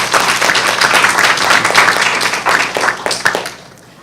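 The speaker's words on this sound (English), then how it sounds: "So another round of applause for Maya." Applause from the audience at an ACLU of Pennsylvania evening event, a dense wash of many hands clapping close by, steady for about three seconds before thinning out and fading.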